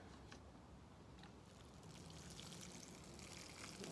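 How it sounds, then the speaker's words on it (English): Water poured onto freshly planted sunflower and pumpkin seeds in soil, a soft, steady trickling pour that swells slightly toward the end, faint and close. "Put some water on it."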